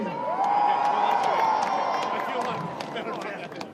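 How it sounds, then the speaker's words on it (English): A large outdoor crowd at Groundhog Day in Punxsutawney cheers and whoops, a loud, dense roar that peaks early and then slowly tapers, with a voice calling out over it. "Woo, what a huge crowd."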